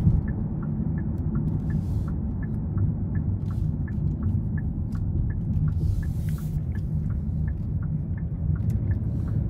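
Steady low road rumble and tyre noise inside a 2023 Hyundai Sonata SEL Plus 1.6T cruising on the interstate, with regular faint clicking ticks repeating over the drone.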